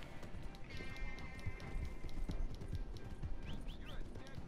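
Horse hooves galloping in Red Dead Redemption 2, a steady fast clip-clop running under game sounds and a voice talking throughout.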